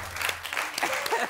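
A studio audience on a Georgian comedy game show bursts into brief applause, a steady burst of many hands clapping at moderate volume.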